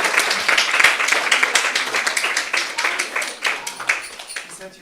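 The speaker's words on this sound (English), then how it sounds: "Big clapping for them," Audience clapping at a devotional morning program, a dense and steady burst of many hands applauding close by for the full length, with a few scattered voices mixed in.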